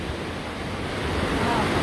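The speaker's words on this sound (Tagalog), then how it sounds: "Ang lakas ng alon no." Strong river waves churn at Wawa Dam in a loud, unbroken roar of rushing water, with wind buffeting the microphone throughout.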